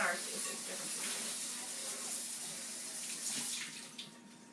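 A kitchen tap runs steadily while a bowl is rinsed under it during home cooking of pulled pork chili and scalloped potatoes, a continuous close hiss of water that eases slightly near the end, with faint voices in the background.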